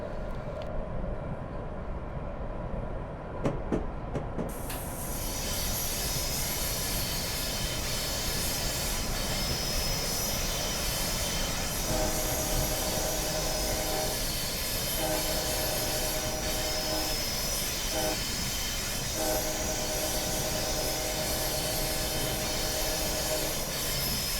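A video game train on the Los Angeles to Irvine Pacific Surfliner route coasts with a steady low rumble and rail noise, a horn-like tone sounding in intermittent bursts partway through; no talking.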